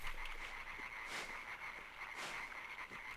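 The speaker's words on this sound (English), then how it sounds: "I can hear froggies." Frogs croaking in the side-scrolling game Limbo, a soft, repeated chorus of croaks in short bursts over a quiet background hum, with no talking.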